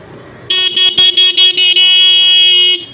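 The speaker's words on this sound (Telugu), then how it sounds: "మీకు ఒకసారి హార్న్ కూడా చూపిస్తాను ఇప్పుడు మోగుతుందో లేదో" A motorbike horn, tested after a wiring repair, blares loud and close: five or six quick beeps followed by one long steady honk, with no talk.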